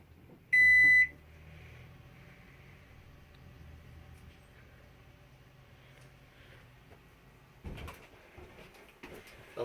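Camper microwave giving a single loud electronic beep as power comes on, followed by a low hum and faint background, with some rustling near the end.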